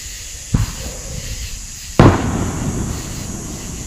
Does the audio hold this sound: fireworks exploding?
yes